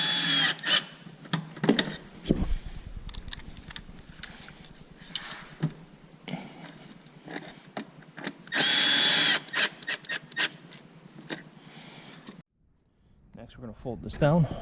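A power drill drives two screws during a 12V battery replacement on a 2012–2014 Tesla Model S RWD, sounding in short close whirring bursts with one long loud run, followed by a brief silence.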